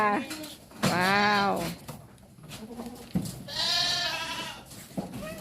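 Goats at a large goat farm in Na Kae, Nakhon Phanom, Thailand, give two loud, long, close bleats separated by a pause, with softer animal noises and a bit of talk between them.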